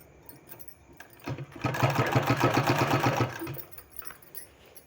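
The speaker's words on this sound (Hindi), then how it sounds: "इस तरह से सिलाई इसमें लगा देना है।" Sewing machine stitching along a fabric strip to form a cord for a sleeve design, a close, steady rapid mechanical whir lasting about two seconds with quiet pauses before and after.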